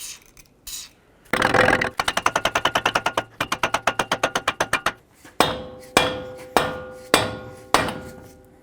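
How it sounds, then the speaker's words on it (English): A few scattered knocks, then a fast run of even metallic blows from a rubber-coated dead blow hammer pushing in a front axle on a RAM 2500, followed by five slower, heavy ringing strikes, loud and close. "I'm going to take my rubber coated dead blow hammer and try to push the axle in."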